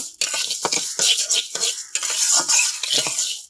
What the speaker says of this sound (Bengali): এখানে চুলায় কড়াই বসাই দিছি চাল ভাজার জন্য